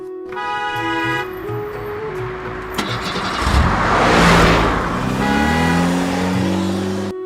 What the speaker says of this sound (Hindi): एक व्यापारी अपनी गाड़ी से गांव आ जाता है